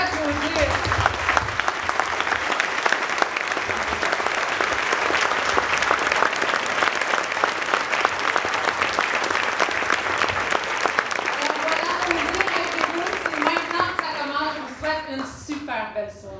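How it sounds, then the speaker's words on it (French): Evening audience applause for a chief researcher, a long stretch of dense, steady clapping that thins out toward the end as a voice begins speaking. "Je vous demanderai de l'applaudir."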